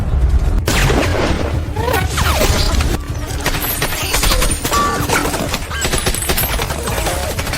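Bursts of gunfire in a film scene of an attack on a team of American snipers, dense rapid shots and crashing impacts going on for several seconds, loud and chaotic, with some speech mixed in.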